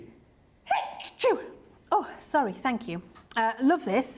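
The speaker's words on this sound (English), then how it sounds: "I'm going to sneeze." A woman sneezes sharply once, up close, then apologises, says thanks and goes on talking.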